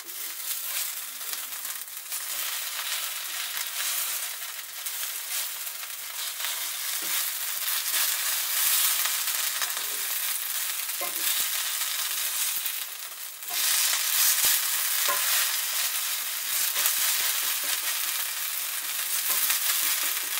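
Hash browns sizzling loudly in a pan of hot oil just after being flipped as one piece, a dense, steady close frying hiss with faint crackles throughout, no voices.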